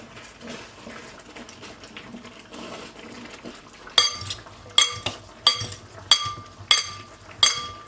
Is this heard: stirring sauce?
yes